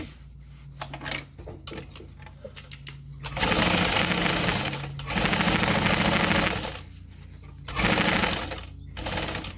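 A sewing machine stitches a facing and pocket together in several loud, sustained runs separated by brief pauses, close up and with no talk.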